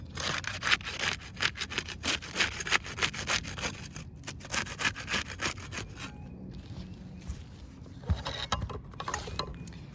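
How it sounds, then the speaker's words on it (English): A putty knife working under the top roof shingle to break its seal, giving rapid rough scraping and rasping strokes, close and fairly loud, easing off briefly near the end before a few more scrapes. "We'll use the putty knife to unseal the top shingle."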